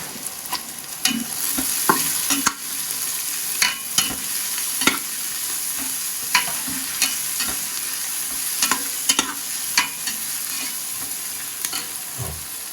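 Onions, curry leaves and chillies sauté with a pinch of salt in a pan for kabsa, under a continuous loud sizzle, with a spoon scraping and tapping against the pan in an irregular rhythm throughout.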